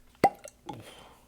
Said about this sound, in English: Cork pop thing.